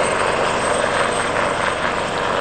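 A helicopter from Dubai makes a steady, loud rotor and turbine roar at London Stansted airport, with no break across the whole stretch.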